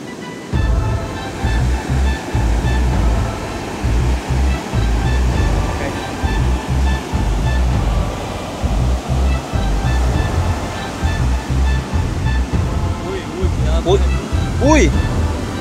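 Rough, furious ocean waves surge and crash steadily and loudly as a boat is launched into heavy surf, with a pulsing low roar throughout and a few faint voices and shouts near the end.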